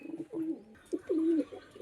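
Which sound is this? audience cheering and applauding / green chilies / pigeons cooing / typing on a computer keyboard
pigeons cooing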